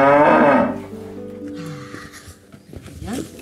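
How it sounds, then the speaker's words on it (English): A dairy cow on a small farm lets out a long, deep, loud moo up close, followed by quieter low lowing and faint farmyard murmurs. "And like most farmers, dairy cows."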